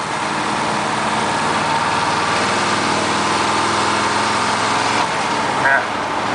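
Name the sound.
Chevrolet K30 truck 6.2 diesel engine driving, NV4500 transmission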